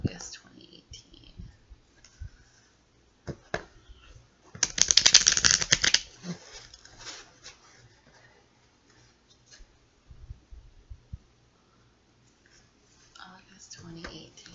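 Tarot cards are shuffled in a quick, close riffle of dense papery flutter lasting about a second and a half, set among sparse taps and handling clicks with soft, whispery talk nearby.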